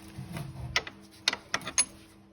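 Screws are fitted while replacing a Chrysler Voyager shock absorber: a few sharp metallic clicks and ratcheting ticks, close and fairly quiet, spaced unevenly over a couple of seconds.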